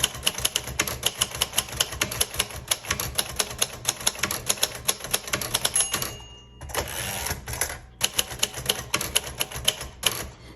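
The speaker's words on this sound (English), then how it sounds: "Even though it's a budget typewriter, it's an excellent typing machine." A 1964 Royal Safari manual typewriter types in quick, loud, close keystrokes, pausing briefly near the middle with a carriage shift before the rapid clacking resumes.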